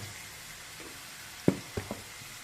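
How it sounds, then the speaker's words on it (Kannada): Ingredients for sambar fry in hot oil with a low, steady sizzle, broken by a few sharp clicks of a spoon against the pan. "ಇದು ಸ್ವಲ್ಪ ಚೆನ್ನಾಗಿ ಬೆಂದ ಮೇಲೆ ಆಯಿಲಲ್ಲೇ ಫ್ರೈ ಆಗ್ತಾ ಇದೆ ಚೆನ್ನಾಗಿ."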